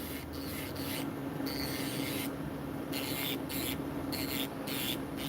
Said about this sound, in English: Now this is a safety drill bit.